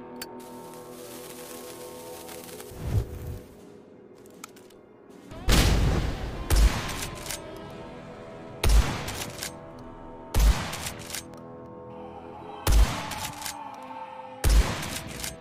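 Several loud gunshot blasts ring out in Blood West, a first-person shooter, spaced irregularly over a steady ambient game hum, with one sharp shot landing early and five or six heavy reports following with short echoing tails.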